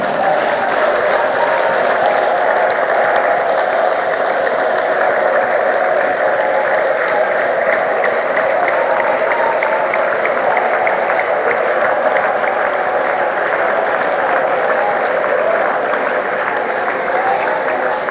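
Sustained, dense applause from a large prayer conference audience fills the whole stretch, steady and loud with no pauses, the clapping blending into a continuous roar.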